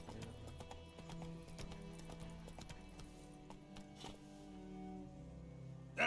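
Roach, a horse in The Witcher 3, gallops with a quick, rhythmic clip-clop of hooves that stays fairly soft and steady throughout, over quiet ambient game sound.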